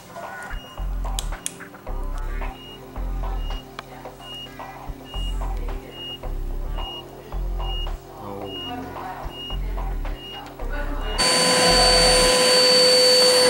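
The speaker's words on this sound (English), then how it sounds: "now we're vacuuming and cleaning up" A vacuum cleaner runs during a workshop cleanup, first in a series of short regular bursts that switch on and off, then holding a loud continuous whine at the end.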